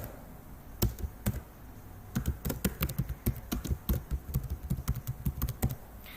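Typing on a computer keyboard while entering code, crisp close key taps arriving in quick uneven bursts with a short pause near the start.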